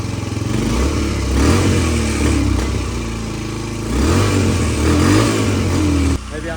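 A dirt bike engine sputters and revs unevenly while running poorly on the throttle, rising and falling in loud surges with mechanical clatter, then dropping back near the end as voices talk over it.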